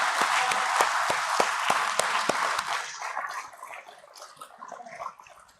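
Audience applause at an IPO listing ceremony for DCX Systems Ltd: dense, loud clapping with sharp individual claps that gradually thins and fades out over several seconds.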